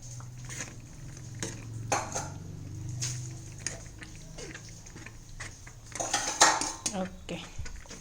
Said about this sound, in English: Now we'll add our macaroni to this solution.